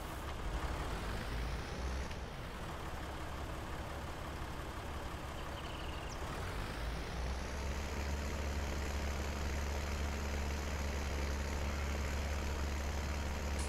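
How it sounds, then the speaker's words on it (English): A tractor engine in Farming Simulator 19 drones steadily at close range, a low, even rumble whose pitch shifts partway through as it labours on, with no talking. "Come on, tractor, you can get there."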